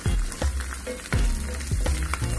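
Crushed garlic fries in hot oil with a loud, constant sizzle, broken by several dull thumps and scrapes as the pan is stirred and mixed.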